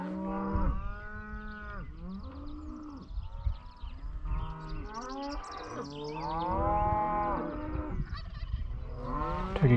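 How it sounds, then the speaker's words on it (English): Cattle moo loudly and repeatedly at close range in a Nebraska field, and a wild turkey gobbles among them, partly buried under the lowing herd and wind noise. "Turkey gobbling right there."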